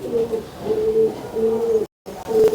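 A pigeon held in the hand, cooing close by in several soft, throaty, rolling phrases with a brief gap near the end.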